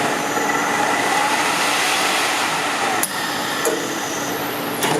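A Scotchman CPO 350 variable-speed cold saw cuts through steel, giving a steady, loud, grinding metallic whir with faint squeals and a few sharp clicks near the end, with no talk.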